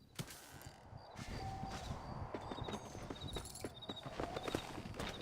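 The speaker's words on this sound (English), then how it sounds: "vamos pegar o nosso cavalo" Horse hooves clip-clop in Red Dead Redemption, a quiet, even walking rhythm of distinct hoofbeats with light ambient sound behind.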